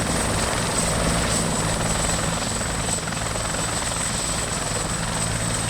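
An ArmA 2 video game helicopter sets down, its steady, loud rotor thrum and turbine whine running without a break from start to finish, with no voices over it.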